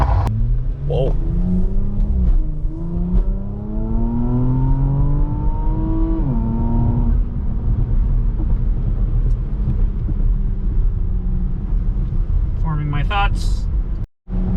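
A 2017 Porsche Macan GTS luxury performance SUV is driven hard, its engine droning and rising in pitch as it accelerates. Steady road and engine rumble runs throughout under the cabin, with a loud sharp burst near the end.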